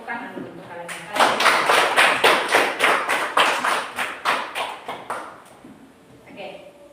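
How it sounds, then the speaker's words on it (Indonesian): Students in a classroom clap together, a dense run of sharp hand claps lasting about four seconds at close range, then fading into quieter room sound. "tepuk tangan untuk kalian yang hadir"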